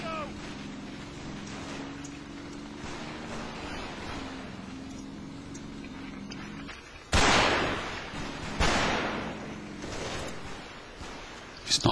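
Anti-tank gun firing in the Combat Mission Market Garden wargame, two sharp loud cracks with a booming tail, the second about a second and a half after the first, following a stretch of low engine rumble.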